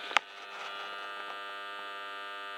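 A repaired SIP 90 arc welder gives off a steady electrical hum after a brief click at the start. The tone stays even and moderately loud throughout, with no talking.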